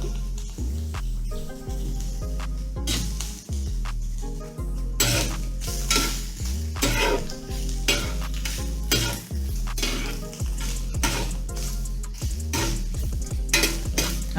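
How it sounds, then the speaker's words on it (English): Onions fry in a pan for a coconut vegetable korma, a loud continuous sizzle under repeated scraping and clinking of a utensil stirring against the metal pan, close and with no talk. "Don't you guys love the smell of onions cooking?"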